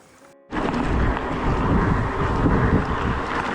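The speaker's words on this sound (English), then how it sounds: "we've got a big strong wind that's just helping me along" Heavy wind roars and buffets across the microphone while cycling on the Lavender Federation trail, a loud, steady rush that starts abruptly after a brief quieter moment and continues without speech.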